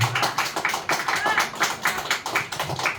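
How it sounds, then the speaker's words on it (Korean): A church congregation claps to welcome a guest, with dense, steady applause throughout and a voice heard faintly under the clapping. "박수 좀 한번 해주세요."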